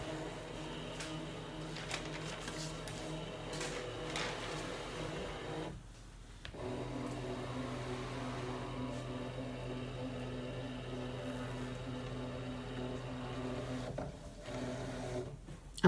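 A Brother ScanNCut SDX2200D cutting machine runs a background scan, giving a steady mechanical whir and hum with a short drop partway through, then continuing evenly before a brief pause near the end.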